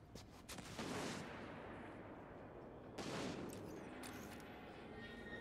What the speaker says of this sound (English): He did shoot it with the scorch cannon.